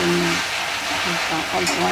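Vegetables for a Bengali Malabar spinach (pui shak) dish sizzle in a pan while being stirred, a short close crackle with scraping, and a voice murmurs faintly underneath.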